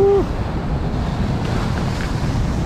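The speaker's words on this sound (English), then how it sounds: "Watch these waves." Ocean waves wash against coastal rocks at a fishing spot, a loud continuous roar of surf mixed with heavy wind buffeting the microphone.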